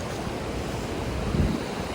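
Ocean waves roll onto Chirala beach in a dense, steady wash of surf, mixed with wind rumbling against the microphone.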